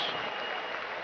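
A brief, soft burst of crowd applause greets martial artist Jean Frenette, a former world forms champion, at an event in Verdun; dense, even clapping with no voices.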